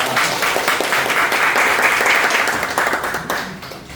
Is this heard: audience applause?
yes